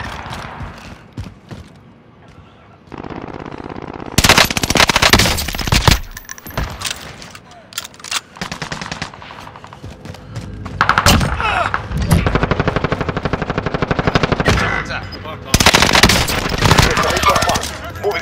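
Intense gunfire in Call of Duty Warzone: long bursts of loud, rapid automatic fire alternate with shorter volleys and brief gaps, close and harsh, while game voices speak between and under the shots.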